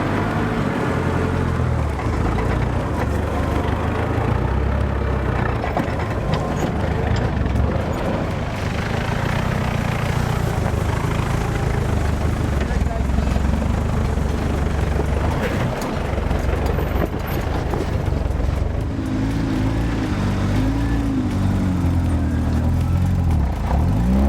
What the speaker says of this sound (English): The rest of the convoy follows suit as we see huge wheel lifts as all the guys drive